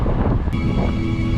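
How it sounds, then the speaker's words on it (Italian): Steady wind buffets the microphone during a bicycle tour ride near Bologna, a continuous low rumbling roar with no breaks for the full length. "c'è un po' di vento che danno fastidio"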